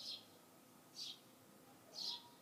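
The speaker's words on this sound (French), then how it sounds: "On a de la chance d'être accompagné par le chant des oiseaux." A bird gives three short, high chirps about a second apart, faint and somewhat distant over quiet outdoor ambience during a yoga session.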